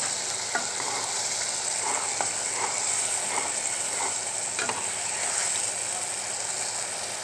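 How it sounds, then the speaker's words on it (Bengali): Chili, coriander and turmeric powders fry in a pan for a small-fish curry, a loud steady sizzle with faint clicks of a spatula stirring now and then, close up. "মরিচের গুঁড়া, ধনিয়ার গুঁড়া, হলুদের গুঁড়া সব দিয়ে ভালো করে কষিয়ে নিচ্ছি।"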